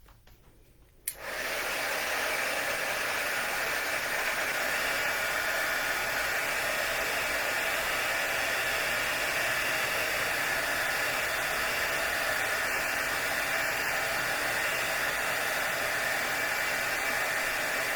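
A heat tool for crafts switches on after a second of near silence and then blows a steady, loud, hissing rush of air without pause for the rest of the stretch, close by, with no talking.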